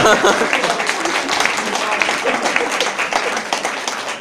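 An audience at a charity auction for a Wisła Kraków signed ball and bag applauds in a steady, crowded patter, with voices mixed in underneath.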